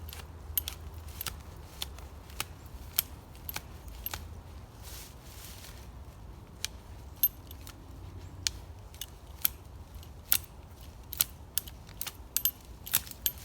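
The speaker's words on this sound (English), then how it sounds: "So I'll just put it down and start ratcheting." Hand ratchet being turned, a series of sharp, quiet clicks at an irregular pace over a low outdoor background, with no talking.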